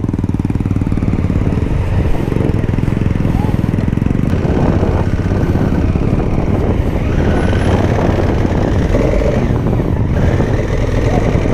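A Honda Africa Twin motorcycle rides along a road near Shiroda beach, its engine a loud, continuous close drone with wind rumble and shifting revs throughout.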